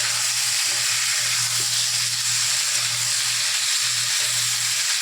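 Boiled elephant foot yam being stir-fried in a pan, a steady broadband sizzle with a low hum beneath it, continuous and fairly close throughout with no talking.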